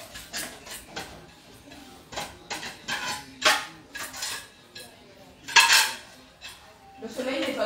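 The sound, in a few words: dishes being handled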